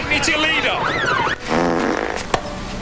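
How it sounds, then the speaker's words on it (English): Fart sound effect from a Doctor Who scene: a wobbling, rasping, pitch-sliding blare over busy sound and voices, ending with a sharp click. "Excuse me, do you mind not farting while I'm saving the world?"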